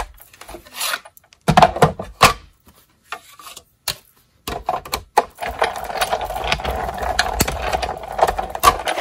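Big Shot die-cutting machine cutting card, heard as a series of close grinding, rubbing crank sounds in uneven bursts with short pauses, becoming a steadier rolling churn in the second half.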